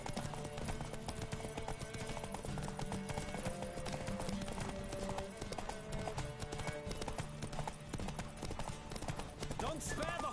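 In The Witcher 3: Wild Hunt, a horse gallops in a race with a rapid, steady clip-clop of hooves, thick with game music and effects, and a whinny near the end.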